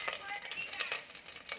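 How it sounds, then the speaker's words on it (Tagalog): Cooking oil heating up for mikus-mikus, a faint, steady hiss and crackle of sizzling, quiet and continuous. "Papakulo na ng mantika."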